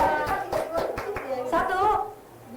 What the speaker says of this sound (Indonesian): Mulai dari tepuk tangan.